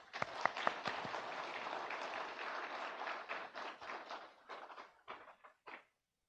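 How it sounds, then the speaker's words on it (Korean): Church congregation applauds to encourage the choir during a Sunday service, a steady patter of clapping from the room that thins out and trails off into a few scattered claps. "격려의 박수 한번 쳐줍시다."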